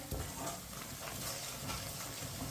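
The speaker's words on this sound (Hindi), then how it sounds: "कम आंच पे मसालों को पकाएं।" Whole spices such as cumin seeds frying in a pan on low heat for a chicken and peas dish, giving a soft, steady sizzle with occasional stirring, fairly quiet and with no talking.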